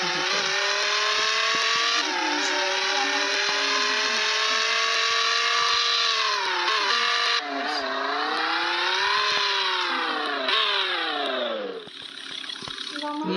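Race car engines rev continuously and loudly, the pitch rising and falling in long sweeps as they accelerate and ease off, close by.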